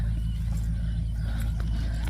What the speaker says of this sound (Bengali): আর মেশিনের আওয়াজ শোনা যাচ্ছে কারণ হচ্ছে ওইদিকে জমিতে চাষ করছে